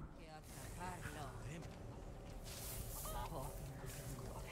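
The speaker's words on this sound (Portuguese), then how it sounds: "Sai daí, galinha." A chicken clucks and squawks inside the Resident Evil 4 Remake village, blended into dense, steady game ambience with someone talking over it throughout.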